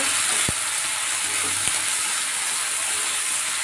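Chopped vegetables with two green chillies fry in a pan, a steady dense sizzle running throughout with a couple of sharp clicks near the start, no voices.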